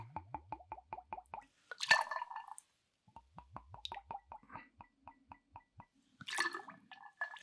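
Buffalo Trace bourbon cream pours out in a run of quick glugging drips and plops, two bursts of pouring separated by short pauses, close and fairly quiet.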